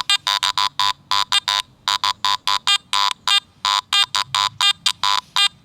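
A rapid series of sharp electronic beeps from a metal detector, steady and loud, pulsing in short bursts with brief gaps, like a repeated target tone.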